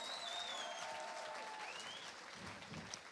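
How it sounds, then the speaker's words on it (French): Audience at a children's church service applauding a children's quiz team, a steady, fairly soft patter of many hands clapping throughout, with faint high tones and murmurs underneath. "On peut les applaudir pour les encourager."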